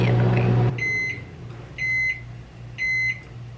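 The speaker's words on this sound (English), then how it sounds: "microwave's about to beep" A microwave oven hums steadily and then stops, followed by three evenly spaced, clear electronic beeps in a quiet room.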